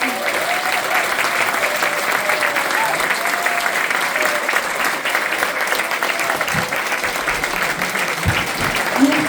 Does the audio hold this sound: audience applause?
yes